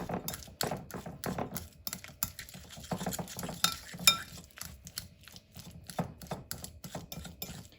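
Fork mashing and mixing egg yolk filling for deviled eggs in a bowl, giving quick irregular scraping taps and clicks against the dish, close and fairly faint, with no talking.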